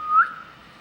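A person gives a single short whistle, rising briefly in pitch and then fading, faint and alone in an otherwise quiet space inside a distillery.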